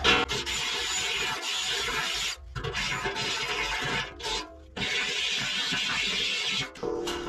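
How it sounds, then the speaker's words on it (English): Grinding out a hole in a rusted steel wheel from a John Deere B tractor, deburring both edges, in long continuous rasping passes broken by brief pauses, close and fairly loud with no talk. "Now we're just going to grind the hole out a little bit, take the burrs off both edges, and make it smooth."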